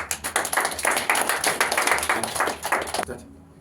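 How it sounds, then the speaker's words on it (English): A church congregation at a deliverance session clapping in a lively rhythmic beat, many hands together for about three seconds before stopping abruptly. "Clap hands for Jesus"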